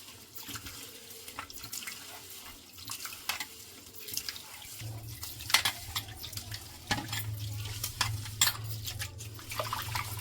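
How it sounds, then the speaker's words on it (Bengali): Kalai dal lentils are washed under running tap water in a kitchen sink, with trickling, splashing water and scattered clicks and swishes as the lentils are rubbed by hand; the flow grows heavier partway through, and no one talks. "তাই আমি পরিষ্কার করে ধুয়ে নেব।"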